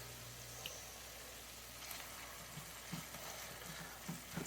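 Poblano peppers frying in a pan, a soft, steady sizzle throughout with a few faint stirring taps toward the end.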